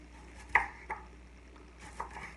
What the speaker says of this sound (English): what I like to do is I like to cut them on an angle